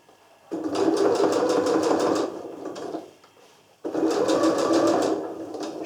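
A sewing machine stitches a travel bag seam, sewing line over line with thin thread in two steady runs of close, loud whirring separated by a short pause.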